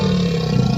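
A monster crocodile roar effect, a deep, continuous growling rumble with a rough roaring texture that stays loud and steady throughout a brief burst.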